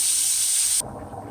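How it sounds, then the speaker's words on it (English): A loud, steady sizzle and hiss of cube steak frying in a pan that abruptly drops to a quieter crackle. "just let this continue to fry up in the pan"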